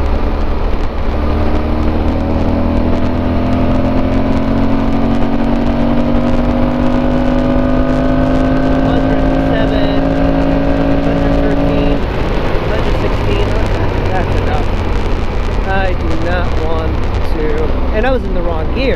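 A Yamaha Super Tenere motorcycle accelerates hard at highway speed, its engine note rising steadily for about twelve seconds before shifting, with loud, constant wind roar throughout.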